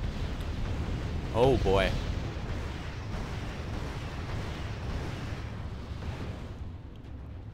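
Artillery and gunfire in the war strategy game Wargame European Escalation: a heavy rumbling blast swells early on, followed by low, muffled booms. A voice speaks briefly over the gunfire.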